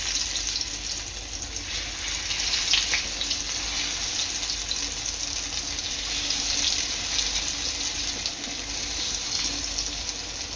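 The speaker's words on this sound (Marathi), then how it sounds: "आता इथे तेल चांगलं गरम झालेलं आहे, तर वांग्याची काप तेलात टाकायची आहे" Eggplant slices coated in a spice paste fry in hot oil, making a steady, dense sizzling hiss that carries on without a break. It sounds close and fairly loud, with no voices.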